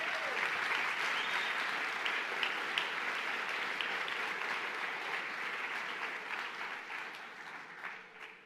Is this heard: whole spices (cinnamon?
no